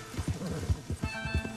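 Hoofbeats clip-clop in a steady run with a horse whinnying among them, a herd of Missouri Foxtrotter horses in Red Dead Redemption 2, loud and close with no talk.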